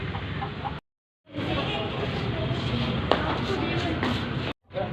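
Votive hens offered at Edappally church cluck and shuffle close by, steady through the clip with short breaks, and people talk over them.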